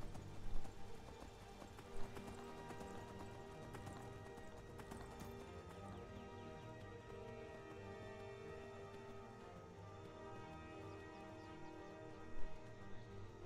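A horse gallops through the Skyrim video game, its hooves making a steady, quiet clip-clop rhythm that runs the whole time, with a couple of louder thumps and a faint whinny, and no voices over it.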